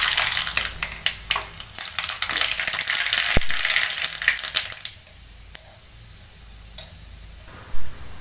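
Mustard seeds spluttering and crackling in 2 tablespoons of hot oil in a heated pan, a dense burst of sharp pops and rattles for about five seconds, then quieter with a few isolated pops.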